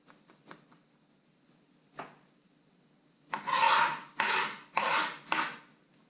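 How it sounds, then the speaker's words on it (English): A knife chops garden peppers on a cutting board, with a few faint taps and then four firm, closely spaced cutting strokes, near and clear with no voices. "I'm going to cut up our garden peppers."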